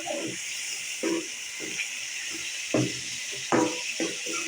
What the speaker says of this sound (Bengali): এখন আমি এতে দিয়ে দেব শুটকি আর মাছটা